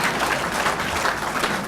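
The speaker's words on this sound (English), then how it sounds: "Somebody wrote in here applause after that." An audience applauds at a political lunch speech, a dense, even wash of clapping from a roomful of people that stays loud throughout.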